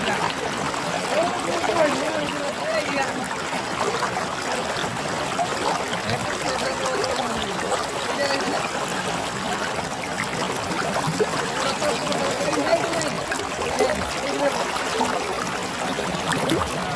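Water flows in a forest stream at Tikarpada in Satkosia, Angul, a steady, even babbling trickle that continues without a break, with faint voices in the background.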